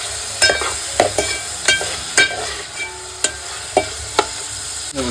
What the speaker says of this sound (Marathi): कांदा आणि लसणीची आपल्याला फोडणी द्यायची